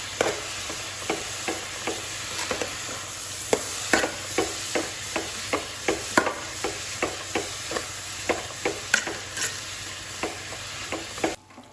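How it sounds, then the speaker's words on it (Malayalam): Sliced onions salted and frying in a pan for bread chili, stirred steadily with a spoon: a soft, continuous sizzle broken by a regular run of scraping strokes, close and clear with no talking. "എന്നിട്ട് നന്നായിട്ടൊന്ന് ഇളക്കി കൊടുക്കാം."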